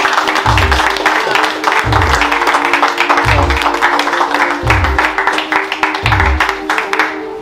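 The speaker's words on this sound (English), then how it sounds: "give Antelina Pat a round of applause for this" Clapping for Antelina Pat in Trench Town, Kingston, blends with a loud music track whose deep bass hits repeat at a steady beat, with voices mixed into the busy, continuous noise.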